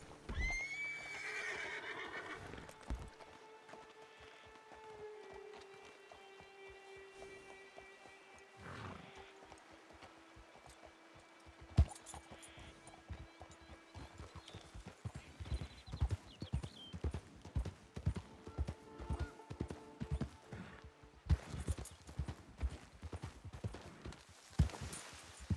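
Game audio of a horse: whinnying and neighing early on, then rapid hoofbeats galloping in a quick, steady rhythm that grows louder toward the end.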